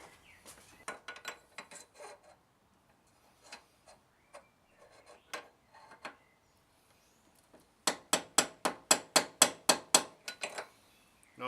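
A motorcycle front axle hammers out a steering head bearing with sharp metallic taps, scattered and uneven at first, then a fast run of about a dozen close, ringing blows toward the end.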